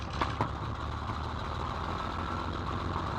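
P-51 Mustang aircraft engine running roughly at a low 800 RPM idle, a steady, close, throbbing low rumble with a couple of brief knocks near the start and no talking.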